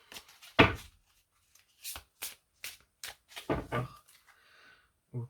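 Tarot cards shuffled for a new draw, in short separate riffles and taps with quiet gaps between them, close and soft.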